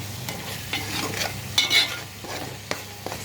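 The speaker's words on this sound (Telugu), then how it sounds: "కొంచెం తగిన చిటికెడు పసుపు వేసుకొని మసాలా వేయించుకుందాం." Masala with a pinch of turmeric fries in a pan for a chicken curry while being stirred, giving a soft, continuous sizzle. A spoon scrapes and taps against the pan at intervals, close by and without talk.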